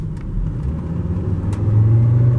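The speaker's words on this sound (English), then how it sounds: "That's full throttle in winter mode for you." Volvo S60 2.5T sedan at full throttle in winter mode, a steady deep engine rumble building louder toward the end as it accelerates, close and continuous with no talk.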